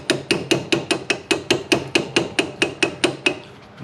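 A metal 3/8-inch drive socket is hammered to tap RV suspension bushings out during a MORryde CRE3000 suspension upgrade, with about fifteen sharp, evenly spaced close strikes in a steady rhythm before stopping.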